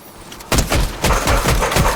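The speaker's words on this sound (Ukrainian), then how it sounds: "Збоку стріляють." Rapid bursts of Fortnite gunfire crack loudly in quick succession, several sharp volleys close together after a brief quiet start.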